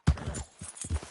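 Horse hooves clip-clop in Red Dead Redemption 2, a short run of close, hollow thuds at a quick, uneven pace, with no speech over them.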